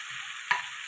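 Bhola fish pieces drop into hot oil and masala spiced with red chilli and coriander powder, a brief close sizzle with a soft stirring knock, heard alone.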